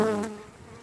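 A short, close buzzing hum of honey bees at a hive, steady and droning, fading slightly over under a second.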